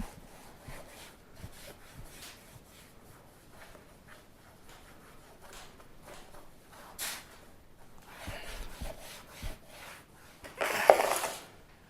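Cloth wiping Wipe New trim restorer onto black plastic car trim, soft repeated rubbing strokes, quiet and close, with a louder scuffing burst near the end.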